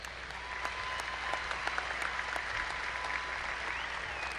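A university fall commencement ceremony crowd applauds graduates at Angelo State University, a moderately distant, steady patter of many hands in a large hall, with a few sharper claps poking out and no speech.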